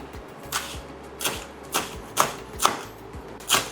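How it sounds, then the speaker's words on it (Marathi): Knife finely chopping chivdi (purslane) leaves and stems on a board, seven crisp evenly spaced chops close up. "याला छान बारीक चिरून घेऊ आपण."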